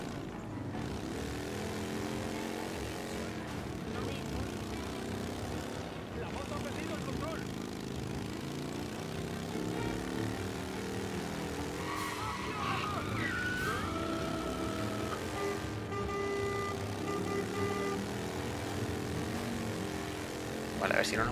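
Motorcycle engine from a ride in the video game Mafia: Definitive Edition, a steady droning hum with shifting pitch that runs continuously beneath people talking.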